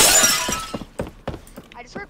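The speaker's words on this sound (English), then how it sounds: "I just heard glass breaking and..." Glass shatters in a loud, crashing burst, followed by scattered tinkling and clattering fragments that fade out over about two seconds.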